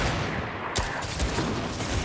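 Gunshots in Fortnite, a dense crackle of rapid gunfire with a sharp report near the middle, loud and continuous over a short burst, with no talking.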